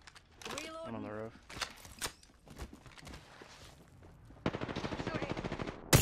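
A shooter video game fires a rapid burst of automatic gunfire toward the end, after scattered shots and clicks. Players talk over the sounds.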